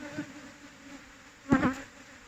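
Bees buzz around a hive of wild cavity-nesting honeybees during the durian flowering season, a low steady hum with one louder, close buzzing burst passing midway.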